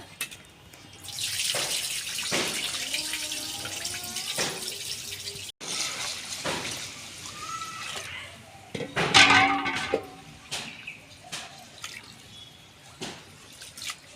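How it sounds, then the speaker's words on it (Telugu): Water splashes and trickles in a bowl, with a brief clink and swishing of grains, in steady bursts of moderate loudness. "రెండు మూడు సార్లు నీళ్ళు పోసి కడుక్కోవాలి బియ్యాన్ని"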